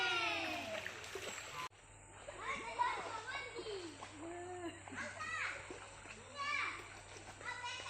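Children shout and chatter while bathing and splashing in river water, lively and fairly close, with voices overlapping throughout.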